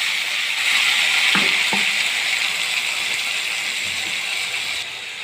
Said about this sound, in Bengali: ওই তেলের মধ্যেই আমি বেটে রাখা আদা রসুনের পেস্টটা দিয়ে দিলাম।